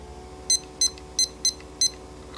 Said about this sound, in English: Okay, I'm setting a timer.